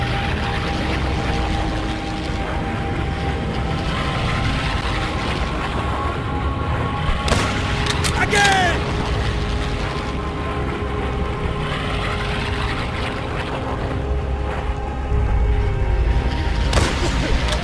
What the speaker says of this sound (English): Wait until the bombers are directly overhead. The sound of the engines will drown out your shot.